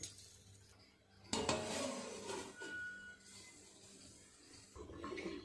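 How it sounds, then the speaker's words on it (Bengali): A lid clatters onto a pot of fresh vegetables set to boil with a little water in a home kitchen. A sharp metallic clank is followed by a soft, steady hiss and faint rattling at close range. "ঢাকা দিয়ে দেবো সিদ্ধ হওয়ার জন্য।"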